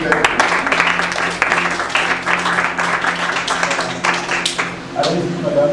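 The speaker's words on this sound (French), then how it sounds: "Je voudrais qu'on acclame la femme de Dieu" A church congregation applauding at a service, a sustained crowd of clapping with cheers and voices mixed in, moderately close and fairly loud throughout.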